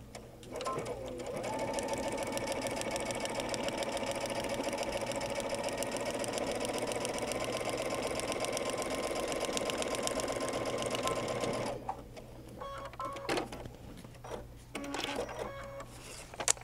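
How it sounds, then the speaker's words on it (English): A sewing machine stitches paper piecing in one long steady run of rapid mechanical chatter, close and even, then stops and gives way to quieter handling noises. "Put your presser foot down and let's stitch this."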